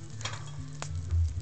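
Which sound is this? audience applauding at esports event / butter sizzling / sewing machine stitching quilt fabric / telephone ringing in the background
butter sizzling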